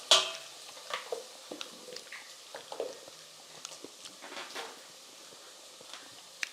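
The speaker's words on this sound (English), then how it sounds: "Okay, stir. Stir, mix." Cumin powder and salt being stirred in a pan, a quiet series of scraping and tapping stirs with small clicks, close by and fairly faint, no voices.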